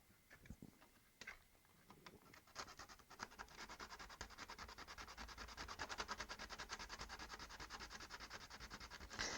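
Steady hand sanding, rapid scraping strokes that start sparse and quickly settle into a dense, even back-and-forth rhythm, close and clear.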